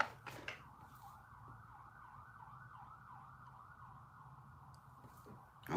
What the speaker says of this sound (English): But there was a siren